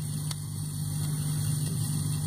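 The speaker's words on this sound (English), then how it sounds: "Nice hearing the mini there" A Mini's engine from The Italian Job soundtrack vinyl holds a steady mid-pitched drone with slight revving, close and alone for a brief moment.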